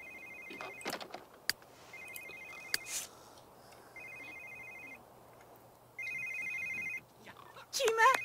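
Telephone ringing in The Sims 3, an electronic trill that repeats in separate bursts with short gaps between rings, while a voice speaks over parts of it.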